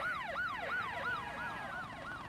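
A police siren in the video game Guitar Hero III wails in fast repeating up-and-down sweeps, about seven cycles in quick succession, loud and clear with no talk over it.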